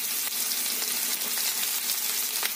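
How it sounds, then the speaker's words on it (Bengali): Sliced onions with dried red chillies frying in hot oil in a pan, giving a continuous close sizzle with occasional louder crackles and spits, no speech. "আর যে পেঁয়াজ কেটে রেখেছি দিয়ে দেবো"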